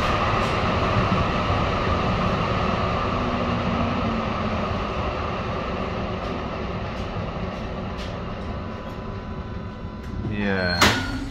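Riding aboard a tram, a steady broadband rumble of wheels and motor runs throughout, with a rising whine and a louder clatter near the end as the car moves on.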